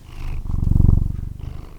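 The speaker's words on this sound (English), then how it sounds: "Hear the purr?" A cat purrs close up with a steady, rumbling low pulse, swelling louder in the middle, during a full-moon cat yoga session.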